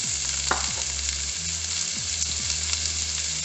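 Peppers, onions and tomatoes sauté in hot oil in a pan, a close, continuous sizzle with a few soft stirring knocks and scrapes.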